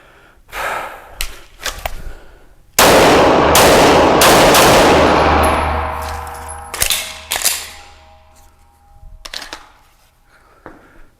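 Shadow Systems DR920 polymer pistol firing: a few sharp, loud reports, one big blast with a long echoing decay, then several lighter cracks and clanks, close up with no talk.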